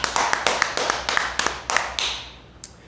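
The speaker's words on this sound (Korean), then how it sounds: "그분들에게 박수 한번 드릴까요?" A small audience claps in sparse, uneven bursts at a social dance gathering. Individual hand claps sound close and sharp, settle briefly, then give way to a few scattered claps at the end.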